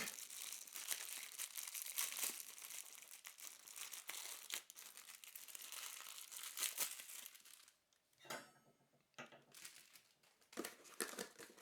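Plastic packaging crinkling while an AmazonBasics hanging planter hook is unpacked, with continuous close rustling and crackling, a short scraping rip partway through, then more rustle, and no talking.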